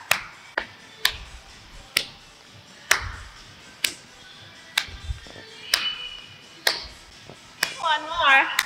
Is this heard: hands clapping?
yes